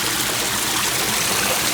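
Indoor waterfall in a hotel lobby with a koi pond, a steady close rush of falling water filling the space with continuous broadband hiss and no voices.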